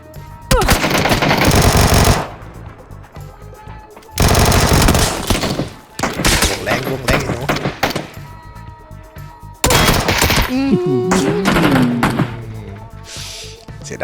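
A Vector submachine gun fires in PUBG in three long rapid bursts, loud and close, with short pauses between them and someone talking over the gunfire.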